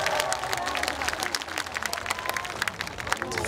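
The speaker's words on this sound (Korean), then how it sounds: "박수 한번 먼저 주세요" An audience claps steadily in a dense, even round of applause, with a faint voice underneath.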